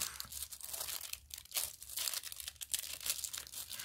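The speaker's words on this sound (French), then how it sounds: "je suis désolée pour le bruit, mais ce papier," Stiff paper crinkling and tearing up close during a diamond painting session on a Christmas chalet canvas, with a continuous run of crackly rustles and sharp rips over about four seconds.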